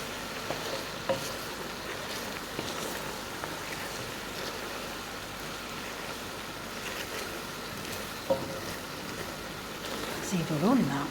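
Chtitha zaloufe, a spicy stewed dish, simmering in a pan on the fire, giving a steady soft sizzling bubble with occasional light clinks over about eleven seconds.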